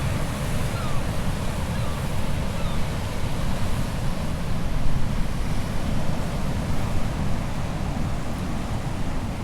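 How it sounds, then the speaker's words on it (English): High sea waves crashing beside a lighthouse at a wild camping spot, a loud, continuous roar of surf mixed with wind buffeting the microphone, steady and close throughout with no talking. "the waves are really high, crashing right next to you"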